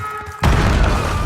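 A grenade blast in the video game Call of Duty Black Ops 6 on PS5: one loud, close boom that hits suddenly and rumbles on as a low, sustained roar.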